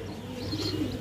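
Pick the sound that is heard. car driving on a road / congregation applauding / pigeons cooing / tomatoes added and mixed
pigeons cooing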